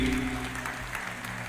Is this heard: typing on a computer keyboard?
no